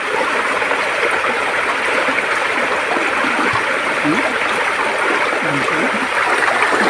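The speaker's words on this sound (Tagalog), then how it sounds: "Malakas ang mga tubig guys." Strong, steady rushing water in a canal fills the whole clip, a dense continuous roar close by, with a faint voice briefly underneath.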